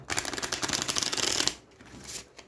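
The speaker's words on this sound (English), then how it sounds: "we'll give a bit of a good shuffle" A tarot deck is riffle-shuffled close up, producing a dense, rapid fluttering rush for about a second and a half, then quieter card handling.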